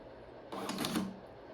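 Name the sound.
POS receipt printer printing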